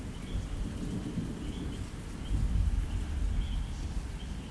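Thunder rumbles low and distant through a light drizzling rain, a steady soft patter with a swelling rumble midway, faint birds chirping now and then.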